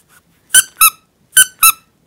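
A small squeaky toy squirrel figure from a mini collectible set gives four sharp, loud squeaks in two close pairs, each a short bright chirp, clear and alone with silence between them.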